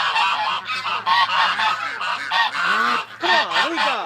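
Domestic ducks honk and call loudly in the morning, near and repeated in overlapping bursts while waiting by a gate, with no talk.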